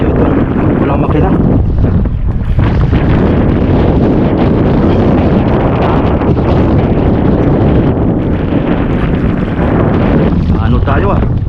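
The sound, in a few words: strong wind blowing on an engineless boat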